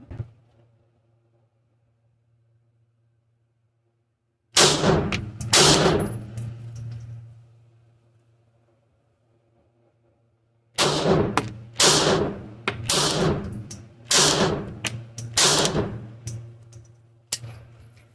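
Glock pistol shots at a shooting range, loud and close, with two shots, a pause, then a longer string of about eight evenly spaced shots, each ringing briefly before the next.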